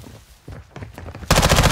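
Automatic weapon fire in a Call of Duty match: a few scattered shots, then a loud, close burst of rapid, evenly spaced rounds rattling at the end.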